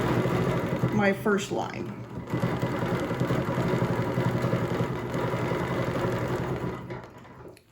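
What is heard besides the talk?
sewing machine stitching a quilted circle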